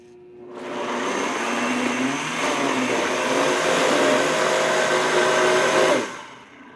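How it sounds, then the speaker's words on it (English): A blender whirs steadily and loudly for about five seconds, blending beans with black pepper and scallions, starting up abruptly and cutting off at the end with no talking. "I'm going to blend this up."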